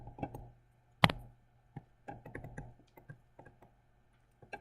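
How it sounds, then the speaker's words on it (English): Keys tapped on a calculator as numbers are entered, a run of light, irregular clicks with one sharper knock, close and quiet with no talking. "Better type that in properly."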